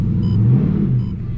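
A Dodge Charger Scat Pack in track mode with a freshly repaired exhaust gives a deep, steady exhaust rumble close by, swelling slightly midway, with no talking.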